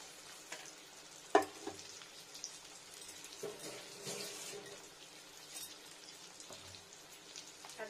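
Potato pieces fry in a pan with dried chilli powder and coriander powder, giving a soft, steady sizzle with a sharp clatter early on and light stirring noises.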